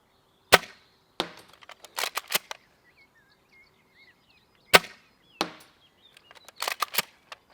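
An upgraded airsoft SMLE rifle fires at an outdoor range, giving sharp, close cracks spaced a few seconds apart, each trailed by brief rattles and clicks, with faint birdsong in the quiet gaps.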